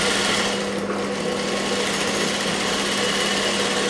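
A sewing machine stitching a blouse in a ladies' tailoring shop, its motor running in a steady, unbroken whir with no pauses, loud and close.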